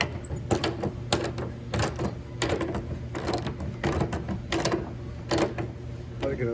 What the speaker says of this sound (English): I can at least turn it with the wrench now.